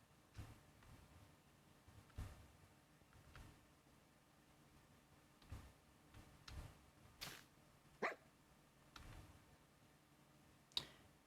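Dog barking in a Minecraft game, short isolated barks scattered at irregular intervals, some sharper and louder than others, over a quiet background with no talk.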